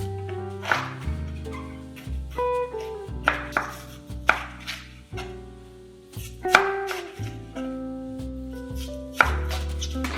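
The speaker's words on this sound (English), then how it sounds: "We first need to cut the cabbage into strips." A knife chops Chinese cabbage into strips on a cutting board, giving steady, close, crisp strokes in a quick, even rhythm with a few louder knocks of the blade against the wood, and no voices.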